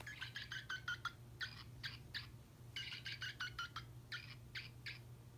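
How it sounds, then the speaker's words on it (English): A small plush eagle toy from 2003 plays its electronic bird sounds, a faint run of quick chirps and tweets coming in short clusters over a low steady hum. "Then we got this little eagle from 2003 that makes bird sounds."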